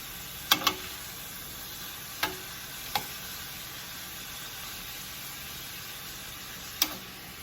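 Cauliflower rice sizzles softly and steadily in a pan over medium-high heat, broken by several sharp scrapes and knocks as it is tossed and stirred.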